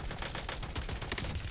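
Rapid gunfire in Call of Duty Warzone, a continuous automatic burst of close, loud shots with no pauses over a short span.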